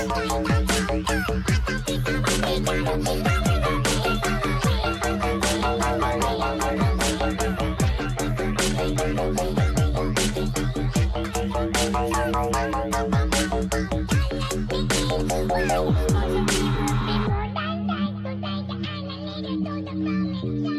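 Raga-style music plays back loudly for the whole stretch: dense tonal layers over a steady pounding beat, with the top end dropping away and the texture thinning near the end.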